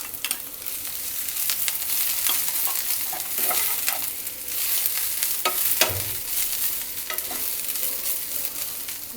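Capsicum, carrot and cabbage stir-fried in a pan as a spring roll filling, a steady close sizzle broken by repeated scraping and tossing strokes of a spatula.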